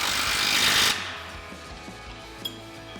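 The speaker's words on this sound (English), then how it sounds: "Now we're going to go ahead and tighten our upper and lower mounting bolts" Close ratcheting burst of a 21mm socket tightening the upper and lower suspension mounting bolts on a Jeep Wrangler JK during a Mammoth 3.5-inch lift install, a loud buzzing rattle for about a second, then quiet clicks and a faint tap.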